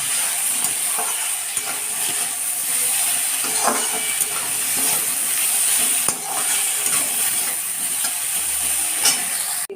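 Turmeric, chili powder, salt and cumin powder sautéing in a pan, a steady hissing sizzle with soft stirring scrapes and occasional sharper crackles, close and continuous throughout.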